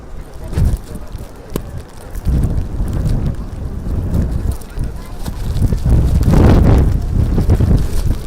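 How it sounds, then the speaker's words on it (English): Strong wind buffets the microphone in loud, gusty rumbles that rise and fall throughout. "So windy."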